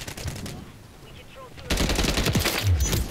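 Rapid automatic fire from the Stalker SMG in Modern Warfare III multiplayer, a loud continuous burst of close, crackling shots that starts abruptly partway through after quieter game noise, with a voice talking over it.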